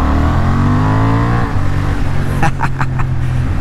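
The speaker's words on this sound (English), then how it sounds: "I do quite like the noise that this bike makes. The engine's got a nice note to it." Loud motorcycle engine note droning steadily, then dropping in pitch, followed by a few sharp exhaust pops and crackles near the end.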